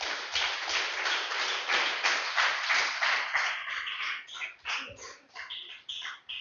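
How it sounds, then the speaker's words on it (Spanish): A church congregation applauds loudly and steadily, then the clapping thins out into scattered individual claps, with no one speaking. "Denle fuerte el aplauso al Señor"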